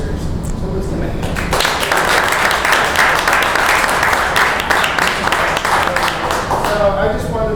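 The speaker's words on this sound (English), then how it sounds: "So let's give it a hand." Applause from an audience at a Board of Education meeting, a loud, sustained burst of clapping that fills the room for several seconds, with a few voices mixed in.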